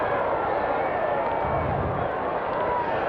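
Steady crowd murmur fills a baseball stadium during a 1995 Braves at Giants night game in San Francisco, a modest crowd of about 20,000, with a continuous low roar and no distinct cheers.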